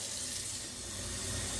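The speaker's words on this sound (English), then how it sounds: "you put water in a pot" Tap water runs steadily into a pot held over a kitchen sink, a continuous close hiss and splash without pause or talk.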